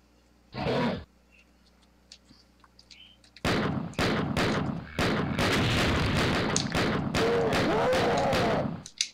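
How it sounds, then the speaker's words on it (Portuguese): Booming blast of an exploding barrel killing a monster in Doom, starting with one short burst, then a dense run of loud explosive impacts and roars layered together for several seconds. "Esse aqui eu matei explodindo latão."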